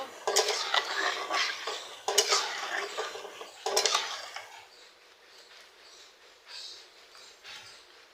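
Bay leaf, cinnamon and cardamom are stirred in a hot pan, with close scraping and clattering spoon strokes in several bursts over a light sizzle before the sound quiets down.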